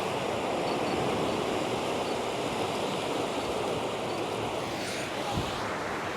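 Ocean waves break and wash along a shore in a continuous loud roar of surf, with a brief swell of churning water toward the end and no talking.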